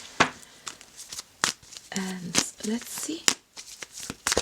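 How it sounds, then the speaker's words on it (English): Tarot cards being shuffled by hand, with soft riffling and papery flicks in short bursts, mixed in with a person speaking nearby. "We're ready to shuffle."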